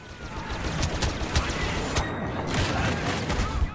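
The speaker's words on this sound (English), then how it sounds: "Grenade that." A grenade blast amid dense battle noise in Star Wars Battlefront, with a rumbling boom and scattered gunfire in a loud, continuous wash of combat sound.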